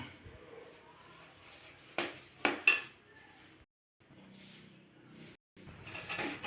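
A spoon scrapes and clanks against a pan while Ashoka halwa mixture with sugar is stirred, with a few sharp metallic knocks close by amid quieter scraping and brief pauses.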